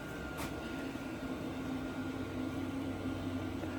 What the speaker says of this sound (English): The old trusty diesel heater, it's quite cold out, it's about 7 degrees outside, and that has been burning all day today.